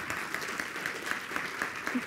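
An audience at a Digital Biscuit 2015 talk applauds speaker Lizzie Gillet, a continuous crowd clapping with a lively, slightly uneven texture, moderately loud and sustained.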